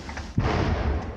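An artillery howitzer fires a single shot in the field, a sudden heavy boom followed by a rumbling decay that fills the remaining second.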